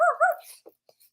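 A dog gives a pair of short, high whimpering yips close by, followed by a few faint scuffs and clicks in near silence.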